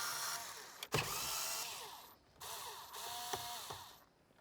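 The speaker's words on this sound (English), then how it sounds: "I'm going to be using a 7mm socket right here to go ahead and remove the bolts down here." A 7mm socket on a ratchet backing out bolts on an S550 Mustang dash, rapid pawl clicking in bursts with short pauses and a sharp clack between them, close and clear.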